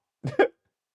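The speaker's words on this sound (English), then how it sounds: "I gotta cough." Two quick, close coughs in a row, the second slightly sharper, followed by silence.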